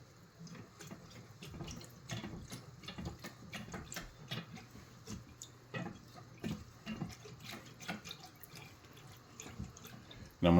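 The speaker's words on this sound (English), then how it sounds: "Start whisking these ingredients together." Turkish delight ingredients are whisked together in a pot, giving quiet, rapid liquid sloshing and clinking strokes in a fast irregular rhythm, faint and close.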